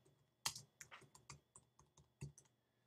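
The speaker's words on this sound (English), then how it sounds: "So I type in Linear Equations" Keystrokes on a computer keyboard, typed at a brisk, uneven pace: about a dozen quiet, close clicks, with one sharper tap near the start and a few gaps, and no talking.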